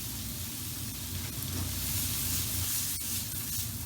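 Diced brown onion frying in about two tablespoons of oil in a large pan, a steady close sizzle and hiss with no voices.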